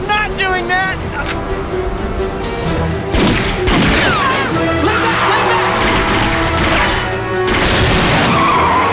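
A car drives hard and skids with squealing tires and engine roar in a chase scene, loud and close, with shouting voices over it.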